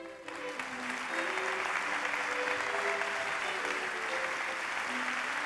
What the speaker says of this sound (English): a warm applause for these four winners